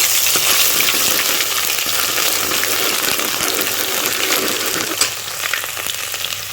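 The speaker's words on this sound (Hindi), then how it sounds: "अदरक लहसुन का जो पेस्ट बताया था आपको 1 टेबल स्पून, वो मैंने ऑयल में डाल के हल्का सा फ्राई कर लिया" Ginger-garlic paste frying in oil in a pan for chicken nihari gives a loud, steady, close sizzle with dense crackling hiss throughout and a faint stir or clink near the end.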